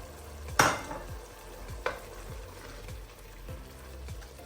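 Spices going into a simmering masala sauce for urid lentil dal in an Instant Pot, with a sharp clink or two of a utensil, then steady stirring scrapes and a soft sizzle, close and fairly quiet.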